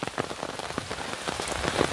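Steady rain pattering densely on a surface, a continuous hiss with scattered louder drops, close and even throughout.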